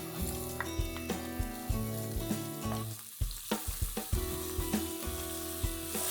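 Two finely chopped onions frying in a pan for a Maharashtrian pithla dish, a steady close sizzle with stirring clatter and scraping running throughout, briefly dipping midway before resuming.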